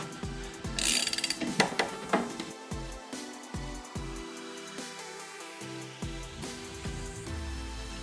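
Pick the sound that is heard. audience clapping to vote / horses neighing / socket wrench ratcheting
socket wrench ratcheting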